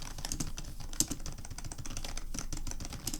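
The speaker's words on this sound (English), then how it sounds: "it's a membrane keyboard, obviously, so it doesn't have switches" Steady, rapid typing on a membrane keyboard, soft muffled keystrokes in a continuous close-up patter with one slightly louder clack.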